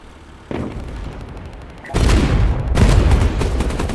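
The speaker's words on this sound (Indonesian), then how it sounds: "Langsung kita tembak aja guys kalau ada musuh di depan kita." Ship cannons in the naval game Age of Water firing at enemy vessels, a loud booming barrage that swells after a quieter start, with heavy, dense blasts continuing through the end.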